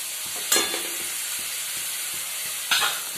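Ground onion, tomato and chili paste frying in a pan, with a constant hiss of sizzling and two sharp bursts as it is stirred, close up and without voices.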